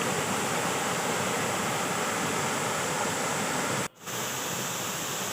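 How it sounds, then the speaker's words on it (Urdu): Water rushes steadily at Jandala waterfall and its flowing streams in Samahni Valley, a constant broadband roar with one brief dip near the end. "سمانی ویلی کے بہتے ہوئے نالے"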